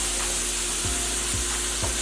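Marinated shrimp sizzle and caramelize on a grill, a loud steady frying hiss with a few soft low thumps, no voices.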